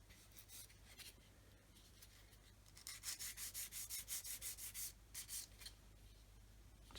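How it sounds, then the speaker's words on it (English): A 400 grit sanding stick rubs back and forth across a plastic part of a 1/32 scale OV-10 Bronco model kit, giving close, rhythmic rasping strokes that quicken into a steady run, over a low background hum. "with our 400 grit stick, come along and sand away until it feels smooth"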